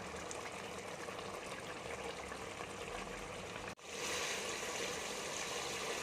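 A steady, loud rush of water pours into a pot of browned mutton for potato curry, briefly interrupted by a short break before the gushing resumes even stronger.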